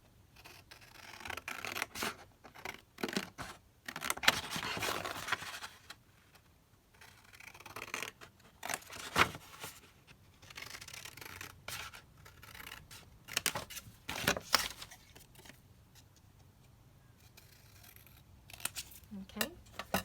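Scissors trimming paper for a junk journal craft project, in intermittent close snipping and rustling bursts separated by quiet gaps, with some handling noise.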